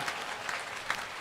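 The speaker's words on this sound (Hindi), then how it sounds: "ताली तो बजाओ।" An audience at a children's Gita recitation presentation in Didwana, Rajasthan claps steadily and fairly loudly throughout.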